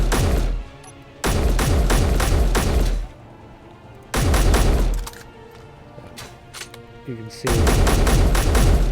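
Weapon fire in Space Engineers with recoil: several loud bursts of rapid automatic shots come in clusters separated by short pauses, with a brief voice speaking between them.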